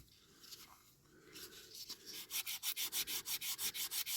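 Sandpaper rubbed over a scratched diecast Majorette Toyota Land Cruiser J40 hardtop model, starting with a few slow strokes and then settling into a fast, steady back-and-forth rasp, close and clear with no talking.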